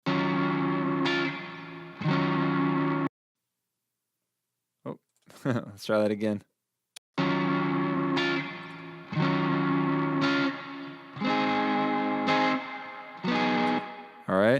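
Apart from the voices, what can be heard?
electric guitar with gain and heavy reverb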